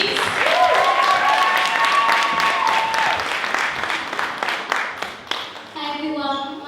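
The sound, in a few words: audience applause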